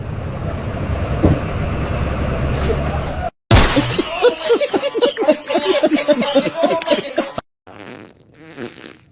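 A loud, rumbling fart sound effect in an AI-made comedy skit plays close up, followed by voices talking.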